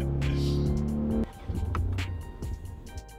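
A car said to have a three-cylinder engine, shooting flames from the exhaust, revs hard with a loud droning tone that suddenly drops into a lower, rougher rumble and then settles.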